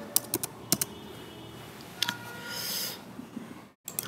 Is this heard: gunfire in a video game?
no